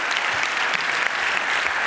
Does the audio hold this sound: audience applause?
yes